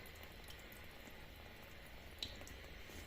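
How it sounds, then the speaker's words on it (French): Water drains from a household water radiator being emptied, a steady faint trickle and gurgle with a small drip partway through, no voices. "Donc là, nous vidons que le radiateur"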